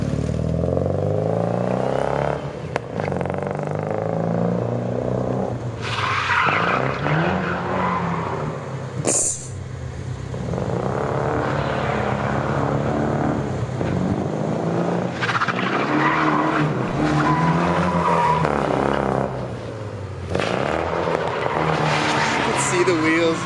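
A car with an open differential drifts, its tires skidding and squealing in long loud sweeps while the engine roars and the wheels hop, with people talking over parts of it.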